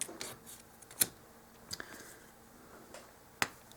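Scissors snip at a cardboard dollhouse door piece in a few sharp, close cuts spaced apart, with faint rubbing and handling noise between them.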